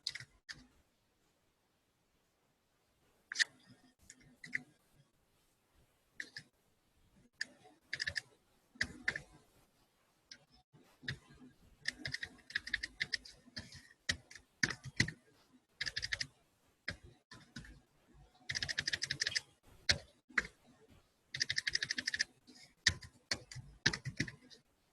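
A computer keyboard typing a directory name, with close, dry key clicks in irregular bursts and short pauses over about twenty seconds in a quiet room.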